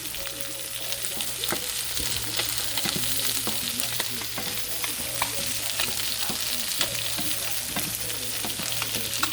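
Meat searing hot and fast in a hot pan, a dense, steady sizzle close by with scattered scraping and stirring clicks, no voices.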